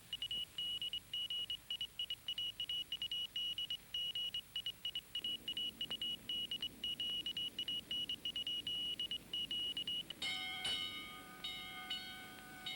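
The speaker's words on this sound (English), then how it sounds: "their ears are alert for the aerodrome bell, which is the signal that the airliner has been sighted" An aerodrome bell rings out loudly near the end, a ringing, tonal signal cutting in over a steady high whine and a low background rumble.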